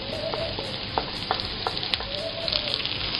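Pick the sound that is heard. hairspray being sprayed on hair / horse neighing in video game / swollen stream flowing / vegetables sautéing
vegetables sautéing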